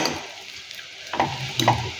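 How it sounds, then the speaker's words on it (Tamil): Ragi (finger millet) vermicelli being stirred into a tempering in a pan, a soft sizzle with scraping spoon strokes that grow a little louder near the end, no talking. "இப்போ நான் வந்து சேமியாவை வந்து அந்த தாளிப்போட மிக்ஸ் பண்ணிட்டேன்"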